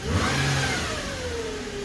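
A car engine idles high and steady on a cold start, around 1500 rpm, its pitch sliding slowly downward as the revs settle, loud and close with no talking.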